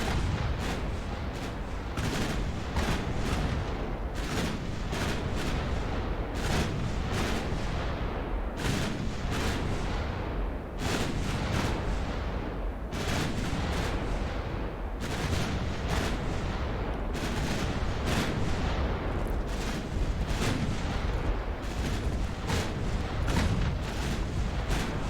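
Secondary guns on a British 1900-era warship fire in Ultimate Admiral Dreadnoughts, a long, loud run of booming shots in irregular, closely spaced volleys that keeps going steadily with no pause.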